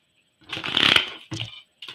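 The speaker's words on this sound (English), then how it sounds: "Now that was a shuffle fail." Tarot cards being shuffled by hand in a bout of riffling that snaps and flutters for about a second, then two shorter bursts of shuffling follow, close and crisp, with no talking.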